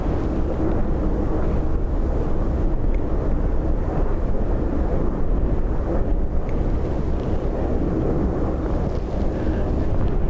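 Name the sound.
aircraft landing in high winds at Dublin Airport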